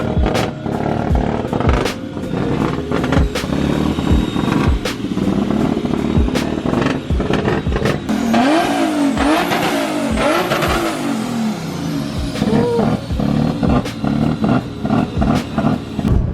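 A BMW E46 M3 drift car with a swapped LS V8 revs hard and loud nearby, the engine rising and falling in repeated sharp bursts, with a sustained high scream as it winds up mid-run.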